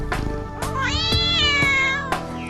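A cartoon cat meows loudly and close in a children's fairy tale about belling the cat, giving a couple of drawn-out, wavering meows with nothing else heard.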